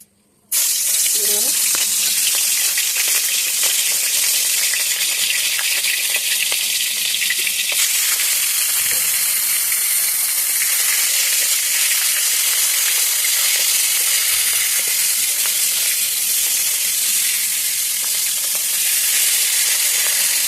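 Hilsa fish coated in turmeric and salt fries in a hot wok outdoors, sending up a loud, constant sizzle and hiss for about twenty seconds after a brief clatter at the start.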